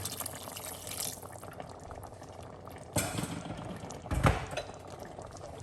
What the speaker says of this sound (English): So we're gonna put a little bit of hot water to give it some gravy.